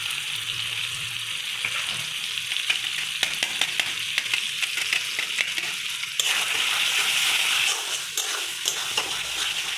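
Ground spices with salt, turmeric and Kashmiri chilli powder fry in a pan for a chicken skin dish, giving a continuous sizzle. Scattered scraping stirs run through it, and the frying swells louder partway through.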